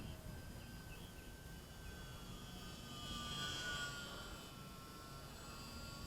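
A UMX Waco model airplane flies overhead at a park, its engine a steady, distant drone that swells slightly midway and then holds level, with no talking.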